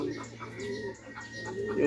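A pigeon-like bird coos softly nearby in a steady low warble, with faint background noise.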